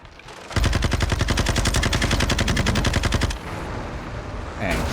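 Rapid automatic gunfire in the Modern Warfare II video game campaign, a loud sustained burst of evenly spaced shots lasting nearly three seconds, followed by quieter background combat sounds.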